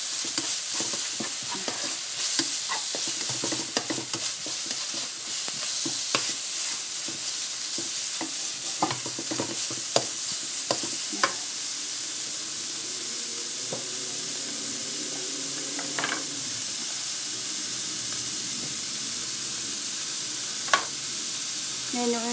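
Minced pork and mushrooms are stir-fried in oyster sauce in a hot pan, a continuous sizzle with intermittent scraping and tapping of a spatula against the pan.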